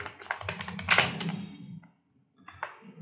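Rapid keyboard typing on a computer while drafting a research report outline, a quick run of close clicks with a louder burst near the first second, a brief pause, then a few more taps.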